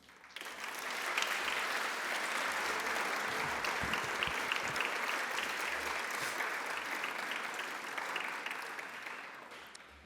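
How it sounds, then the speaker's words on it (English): An audience at a cadet speech competition applauds its high school speakers: clapping swells up within the first second, holds as a full, steady roar, then gradually thins and fades near the end, heard at a moderate distance. "Please give another round of applause recognizing our excellent high school speakers."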